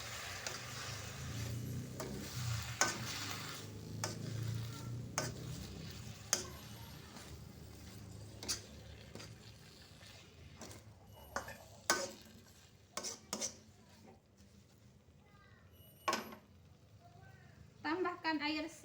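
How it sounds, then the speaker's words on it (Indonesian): Chayote shoots with anchovy sambal are stir-fried in a pan, giving soft sizzling and scattered clinks and scrapes of a utensil, quiet and intermittent, with occasional sharp taps. "Kita oseng-oseng sebentar teman-teman."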